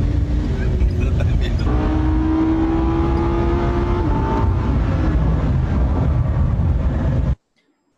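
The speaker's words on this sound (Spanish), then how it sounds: "estamos aquí dando una vuelta en el Lamborghini" A Lamborghini sports car engine drones loudly and steadily while driving, its pitch shifting as it goes, then cuts off abruptly near the end.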